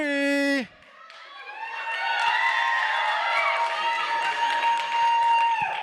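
A crowd of girls shrieks and yells loudly for a prize at a live a cappella show, the sustained high-pitched roar swelling after a short spoken lead-in and carrying on for several seconds.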